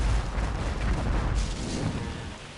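A cannon tower fires in the video game Port Royale 2, a loud, close boom whose rumbling roar fills the short stretch before easing off.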